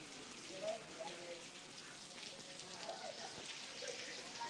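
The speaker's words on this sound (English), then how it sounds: "Wow, the rain is really coming down." Heavy rain pouring down on a cruise ship deck, a faint, steady broadband hiss with scattered drop patter, distant and continuous.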